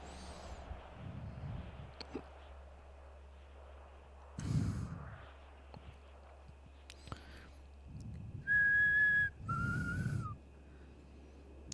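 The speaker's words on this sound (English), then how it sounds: "my whistling has been going out of control" A person whistles in short bursts, including a couple of clear sustained high notes near the end, separated by breathy sighs and quiet pauses, close to the microphone.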